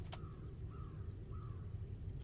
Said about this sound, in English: Oh, I can hear a bird outside in the game.